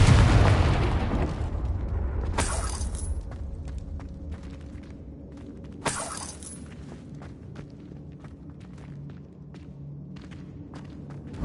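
In Hogwarts Legacy, the Confringo blasting spell explodes with a sharp burst that fades into a rumble, and two more crisp blasts follow a few seconds apart, with scattered thuds and crackles between them.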